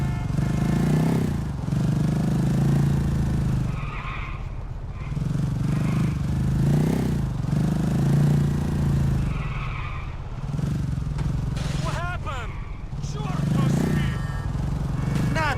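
A motorcycle in GTA The Lost and Damned revs in rising and falling surges, with tire skids and scraping impacts as it crashes into walls and cars.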